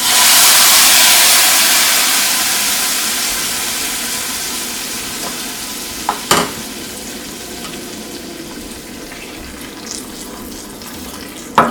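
Hot chilli and turmeric tempering hits mango curry (mambazha pulissery) with a loud burst of sizzling that slowly fades into a steady hiss, with a couple of sharp pops and spoon clinks near the end.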